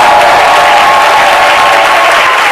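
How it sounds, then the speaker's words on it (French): A live studio audience on a midday TV talk show applauds loudly and continuously, a dense, even roar of clapping close to the microphone that never lets up. "bienvenue avec les applaudissements renouvelés de notre cher public"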